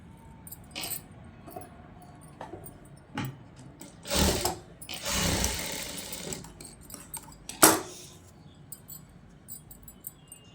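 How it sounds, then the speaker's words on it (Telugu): A sewing machine stitches a garment in short bursts of whirring with clicks and mechanical rattles between them, close and fairly quiet overall. "ఇలా ఒకదాని వెనక ఒకటి స్టిచ్ చేసుకుంటూ వచ్చేసేయాలి"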